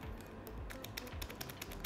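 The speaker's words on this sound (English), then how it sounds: "No bump, no click. Okay, it's a linear type of switch." Typing on an Armaggeddon MKA1-C Neo budget mechanical keyboard with red linear, non-clicky switches: a quiet run of soft, irregular keystrokes close to the microphone, without voices.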